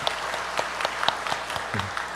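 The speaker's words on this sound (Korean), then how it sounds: "우리 힘차게 격려하며 박수하겠습니다" A church congregation applauds its choir after a hymn, a brief, moderately soft round of scattered, distinct handclaps with a few sharper claps standing out.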